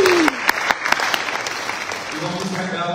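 A church congregation bursts into applause at a worship service, dense clapping rising with a few sharp individual claps, and a voice speaks briefly over it near the start.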